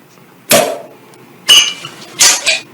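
Glasses of San Miguel Pilsen beer clink together in a toast, three sharp, bright clinks spaced about a second apart, close and loud against a quiet background.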